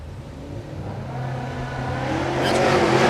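At Texas Motorplex drag strip, a Mustang's engine roars louder and louder as it accelerates hard, building to a loud, close, high-revving blast by the end.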